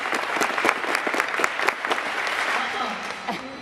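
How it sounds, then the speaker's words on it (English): A school assembly audience claps together, a burst of roughly ten sharp, loosely synchronized claps that then fades into scattered murmuring and room noise. "on the whistle, 10 claps."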